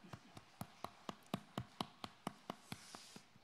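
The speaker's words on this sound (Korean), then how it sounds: "하나님께 영광의 박수 드리겠습니다." A church congregation claps in unison during a Sunday service, faint but crisp hand claps repeating in a steady rhythm of roughly four per second, with no voices over them.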